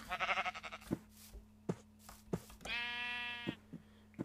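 Sheep bleat in the Minecraft video game, one wavering bleat standing out clearly alongside another brief bleat, among scattered footstep and block thuds with no talking.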